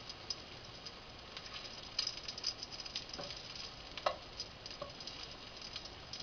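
Garlic frying in hot oil gives a soft, continuous sizzle and patter with scattered small pops and crackles, heard alone at moderate loudness.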